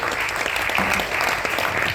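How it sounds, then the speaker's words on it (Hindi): Loud, dense clapping from an audience at a university yoga conference, a continuous steady roar of many hands without a break. "तो मैं चाहूंगा कि एक बार मंच और सभी मिलकर जोरदार तालियों से"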